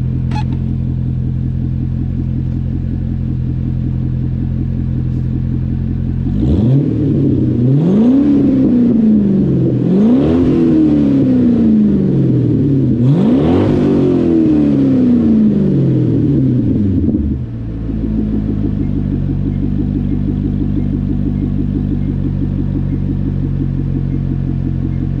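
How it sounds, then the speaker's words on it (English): A low-mileage Chevrolet Impala's engine idles with a deep steady rumble, then revs three times in rising and falling sweeps before settling back to idle, close and loud with no talking. "We'll go ahead and get a couple revs."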